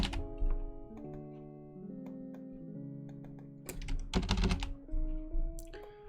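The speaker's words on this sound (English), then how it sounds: "I'm going to just, of course, get rid of what we typed in for Elvira" Computer keyboard keys tap in short, irregular bursts, clearly audible over soft sustained background music, with a denser flurry of quick presses partway through.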